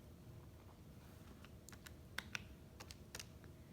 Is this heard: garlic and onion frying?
no